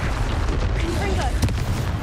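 A Confringo spell explosion in Hogwarts Legacy, a short booming blast with a sharp burst partway through, set among busy combat noise and faint voices.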